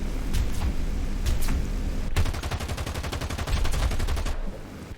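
A BV-138 flying boat's turret cannon in War Thunder fires a few scattered shots, then a fast, sustained burst of rapid thumping rounds over roughly two seconds before stopping.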